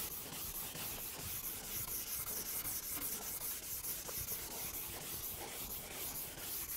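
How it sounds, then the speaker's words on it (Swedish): A rotating horsehair brush buffs ski wax on a ski base in a steady, even scrubbing hiss that runs unbroken at a moderate level with no talking. "Det går ju bra också att använda roterande tagelborste."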